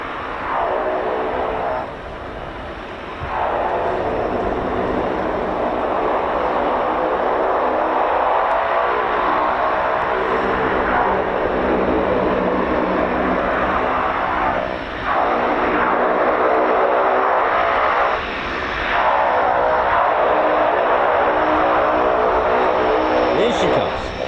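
Aircraft engines roar loudly and steadily as a plane arrives at the RAF Fairford air tattoo, a deep droning sound that swells and dips slightly over the whole span.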